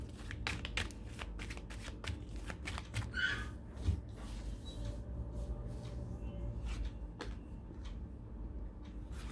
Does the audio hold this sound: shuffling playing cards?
yes